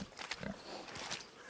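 Pig grunting in the video game Kingdom Come Deliverance, several rough low grunts in a short burst, fairly close and moderately loud, with a faint voice briefly audible.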